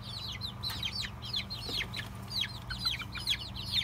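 Bantam hens clucking and chirping repeatedly as they settle in at roost for the night, a busy stream of close, overlapping calls over a low steady hum.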